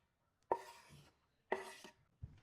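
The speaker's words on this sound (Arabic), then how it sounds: "البصل الاخضر، هشيل الابيض، هنقطعه رفيع خالص خالص." A knife cuts green onions thinly on a board in a quiet kitchen, giving two sharp, close chops a second apart followed by a softer third cut, with no one talking.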